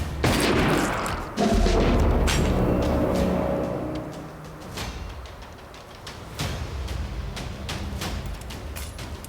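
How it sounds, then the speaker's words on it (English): A thrown stick of dynamite blasts in the extraction shooter Nightmare Frontier, a loud close boom at the start followed by a long rumbling decay and scattered gunshots. "Good lob of dynamite."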